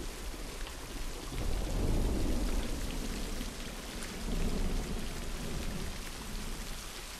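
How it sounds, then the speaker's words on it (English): Heavy rain pours down with rolling thunder in The Last of Us, a dense steady downpour hissing on surfaces while low rumbles swell and fade beneath it, loud and close throughout. "At least we're out of the rain."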